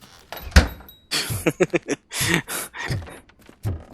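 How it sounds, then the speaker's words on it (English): A door thuds shut in the RoboCop: Rogue City game: a sharp knock early on, then a series of short clunks and mechanical bumps in quick succession, close and fairly loud, with no talk over it. "Yeah, I bet you close that door quick."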